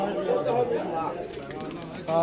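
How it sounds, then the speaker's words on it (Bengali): Pigeons coo at a pigeon market in Saruliya, Bangladesh, their soft rolling calls close by and mixed with people talking over the steady market bustle. "বন্ধুরা দেখছেন অবশেষে সেই ভাইয়ের কবুতরগুলো এই যে পাইকার মামা খাঁচায় ভরতে আছে"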